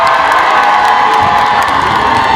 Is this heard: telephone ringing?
no